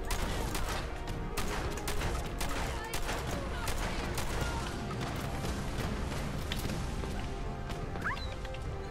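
Rapid, dense gunfire and crackling blasts fill a chaotic firefight in Fallout 4 where a gamma gun is being fired, a steady loud barrage with voices faintly under it.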